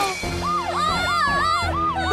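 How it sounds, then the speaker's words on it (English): A wailing siren rises and falls in repeated swoops from a small animated vehicle in a children's cartoon about a rescue team, loud and close, layered over music. "isn't that a siren?"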